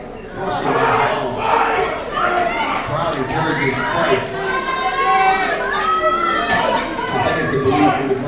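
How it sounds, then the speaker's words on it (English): A wrestling crowd in an arena chants a name in rhythmic repeated bursts, a dense roar of many voices with shouting layered through it. "The crowd chants, spikes, spikes."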